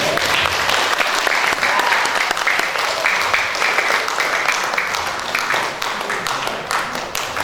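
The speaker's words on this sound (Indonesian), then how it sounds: "Tepuk tangan." An audience at a charity event for blind people applauds, dense and loud clapping running steadily through the whole stretch with no talk over it.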